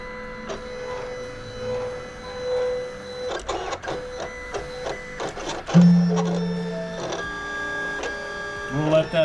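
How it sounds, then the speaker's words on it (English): Silhouette Cameo cutting machine cutting chrome and black vinyl for a two-colour stacked crop-mark job, with whirring carriage sweeps, clicking moves and a sustained motor drone, loud and close, with a brief voice near the end. "there's my machine cutting up the job."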